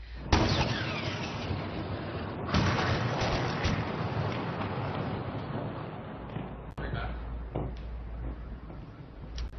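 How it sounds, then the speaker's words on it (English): Artillery shells landing in Gaza at night, picked up in a news broadcast as distant, muffled booms over a steady low rumble. "we are hearing artillery shells constantly landing in Gaza tonight"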